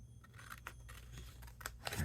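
Scissors snipping close around a paper card element during fussy cutting, a string of short crisp cuts at an uneven pace over a low hum.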